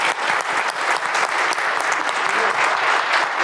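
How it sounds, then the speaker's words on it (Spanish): An audience at a cybersecurity panel claps in a loud, sustained round of applause, many hands blending into an even, energetic clatter from start to finish. "Yo quiero pedirles un gran aplauso a este tremendo panel porque lo han hecho extraordinario."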